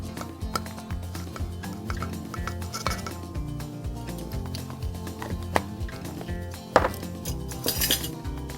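A spoon stirs onion patty batter mixed with baking powder in a bowl, giving a steady run of close clinks and scrapes against the dish with a few sharper knocks.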